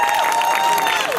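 A Halloween event crowd gives a brief burst of applause and cheering, loud and close, with sustained tones and a few whistles or voices cutting through the clapping.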